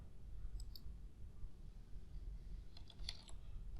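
Computer keys and a mouse click quietly while someone works through a function-optimization problem. A few isolated clicks come early, then a quick cluster of keystrokes follows near the end over a low background hum.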